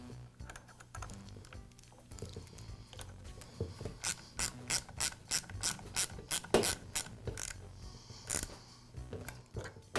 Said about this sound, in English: Once in place, I'll secure it with the screws.